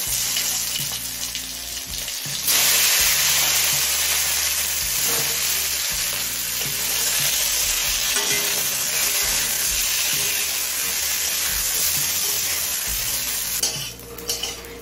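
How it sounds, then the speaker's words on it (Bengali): Eggplant frying in hot oil left over from frying bhola fish. The sizzle swells to a loud, dense hiss after a brief quieter start, with occasional utensil clinks, close up and without voices. "মাছ ভেজে তুলে নিয়ে এবার এই তেলেই বেগুনটা ভেজে নেব।"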